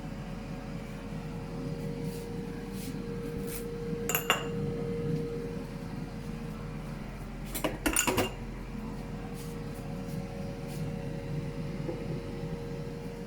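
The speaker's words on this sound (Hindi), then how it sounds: "और कभी कभी तो मैं बाजू का बर्तन भी साथ साथ ही धोती हूँ" Dishes and pots are washed by hand at a kitchen sink while cooking, with scattered clinks and clatters, two sharper metallic knocks standing out over steady running-water wash and background hum.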